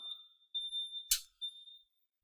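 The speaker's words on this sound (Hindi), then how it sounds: "ये अलार्म बीप करने लगा।" A fire alarm panel in a school classroom emits a thin, high electronic beep in short repeated pulses, faint and clear in an otherwise quiet room, with one brief click partway through.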